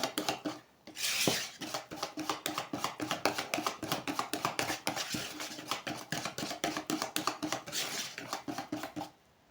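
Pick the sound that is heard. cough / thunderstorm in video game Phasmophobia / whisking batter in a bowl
whisking batter in a bowl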